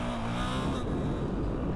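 A 2022 450RL dirt bike pulls hard in second gear, its engine a loud, close, continuous roar with strong low harmonics that smooths out as the revs settle.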